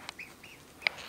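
Birds feeding at a lake at Loch Sport give a few short calls and quacking squawks, including a louder call near the end, over quiet outdoor background.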